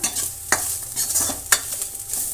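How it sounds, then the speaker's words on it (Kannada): Sliced ridge gourd frying in a little oil in a pan, with a soft steady sizzle broken by a few sharp scrapes and clinks of stirring close by, and no talking. "ಫ್ರೈ ಮಾಡ್ಕೋಬೇಕಾಗತ್ತೆ ಆಯಿಲಲ್ಲಿ ತುಂಬಾ ಬೇಡ ಒಂದು ನಿಮಿಷ ಇಲ್ಲಾಂದರೆ ಒಂದೂವರೆ ನಿಮಿಷ ಅಷ್ಟು ಫ್ರೈ ಮಾಡ್ಕೊಳ್ಳೋಣ"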